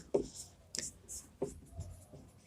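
A teacher writes on a board during a history lesson, producing a few separate scratchy strokes and taps of chalk, faint and spaced out over a couple of seconds.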